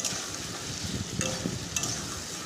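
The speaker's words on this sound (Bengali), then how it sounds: "সব রকমের সবজি দিয়ে এবং ভালো মতো নাড়াচাড়া করে কষে নিচ্ছি" Mixed vegetables for a Bengali chorchori with potatoes sizzle and fry in a pan, a steady hiss with a few scraping stirs near the end, close and continuous.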